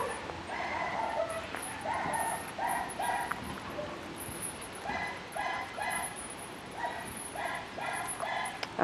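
Small dogs whimper and yip in short repeated bursts, fairly close, with high whiny tones recurring in clusters across a calm kennel-like setting.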